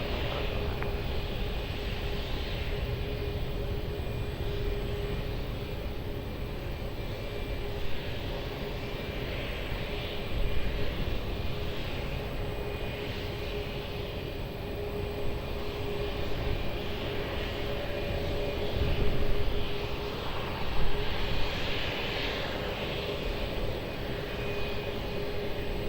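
An airplane takes off at Lisbon Airport, a steady broad jet roar heard at a distance that holds constant and swells slightly at moments, with no voices.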